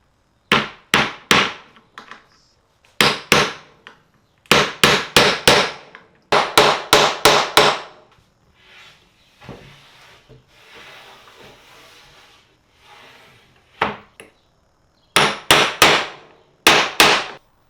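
Loud, close hammer blows in quick bursts of three to five strikes drive T-nuts into the holes of a CNC wasteboard in a Shapeoko CNC cabinet, with quieter rustling and handling between bursts.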